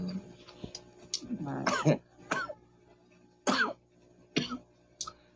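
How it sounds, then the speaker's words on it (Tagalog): A series of sharp, raspy coughs in irregular bursts, about five or six, close by, with brief quiet gaps between them. "inuubo ako"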